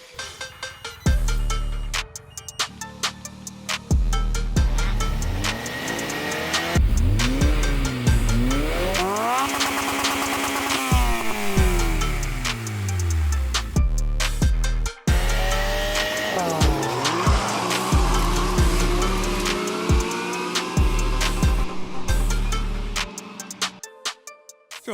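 A BRP Maverick Turbo and a custom buggy with a 2-litre K20 engine race. Loud engine revs rise and fall through repeated shifts, with tire squeal and skidding throughout.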